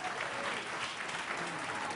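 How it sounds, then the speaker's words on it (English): An audience at a quiz bowl season finale applauds the contestants with a continuous, even roar of many hands clapping, fairly distant and moderately quiet. "great round of applause for Keith Country Day"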